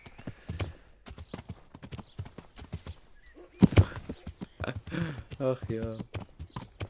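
Horse hooves clip-clop steadily while riding in Kingdom Come Deliverance, a regular close rhythm of hoofbeats with a brief whinny, while someone talks over them.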